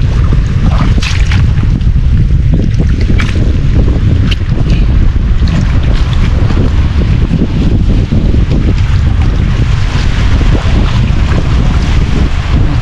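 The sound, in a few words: strong wind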